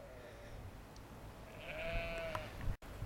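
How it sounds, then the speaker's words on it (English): Sheep bleat in a Lake District field near Ullswater during a country walk, a few drawn-out calls from a moderate distance over steady outdoor background noise, ending with a brief dropout. "at the sheep having the breakfast"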